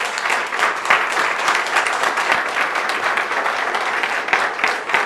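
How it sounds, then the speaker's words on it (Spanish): A church congregation applauds together, with loud, dense, continuous clapping that fills the whole stretch at an even level and no talk over it. "Vamos a darle un aplauso a Cristo por sus bondades, hermanos."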